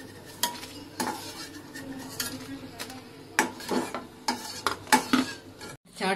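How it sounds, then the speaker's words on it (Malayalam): Flattened rice (avil) dry-roasted in a pan with little oil for chaat, heard as repeated stirring scrapes and clinks of a spoon against the pan with a faint sizzle, close and fairly quiet, no talking. "ചാട്ടിനുള്ള അവിലാണ് വറുത്തത്."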